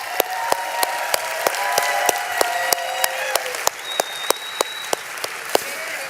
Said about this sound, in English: So nice round of applause for Steve and Gina Merritt.